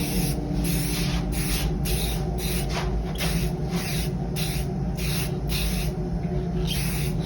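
Rust-Oleum clear matte coating sprayed from an aerosol can onto a surfboard after a fin box repair: a steady close hiss of spray broken into short repeated bursts, with no talking.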